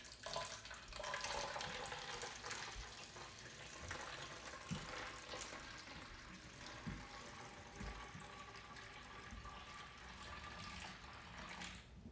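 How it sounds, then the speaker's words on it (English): Moon water poured steadily into a jug for a homemade home-cleaning spray, a continuous splashing, gurgling stream that runs close and fairly loud for about twelve seconds with no talking. "to our jug, we're gonna pour our moon water in."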